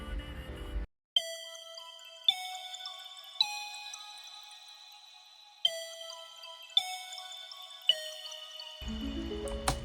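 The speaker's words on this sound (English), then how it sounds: "So I got the Woody preset" Woody preset melody from the Expand plugin run through Guitar Rig, plucked bell-like notes struck one at a time in a sparse, clean pattern with long ringing decays, fairly quiet, alone with no talk.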